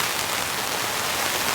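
Heavy torrential rain pours down during a solo camping trip, a steady dense hiss with no letup and no voices.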